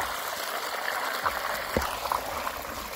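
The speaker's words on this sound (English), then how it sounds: "Turning the pump on, the 1100 gallon per hour marine bilge pump seems to supply enough water to the sluice box." Water from an 1100 gallon per hour marine bilge pump runs steadily through a gold sluice box outdoors, a continuous close trickling and splashing flow with a few brief louder splashes, no talking.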